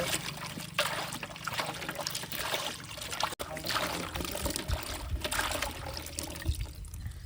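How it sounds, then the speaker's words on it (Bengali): Water runs and trickles steadily over freshly cut vegetables being washed by hand, probably potato, eggplant, pumpkin, cauliflower and cabbage, a continuous close splashing rinse with small surges and no talk. "এবার চলুন আমরা সবজিগুলো ধুয়ে ফেলি ভালো করে জল দিয়ে ধুয়ে ফেলে"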